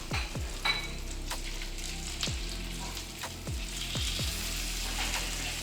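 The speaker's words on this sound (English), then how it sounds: "bacon is cooking. It wants to curl up on me now." Thick slice of bacon frying in a pan, a steady close sizzle with crackling pops and several sharp utensil knocks against the pan at irregular intervals.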